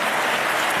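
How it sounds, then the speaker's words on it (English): Audience applause at a live debate, a steady wash of clapping from a crowd, loud and continuous through the brief moment with no talk over it. "We'll give you a round of applause."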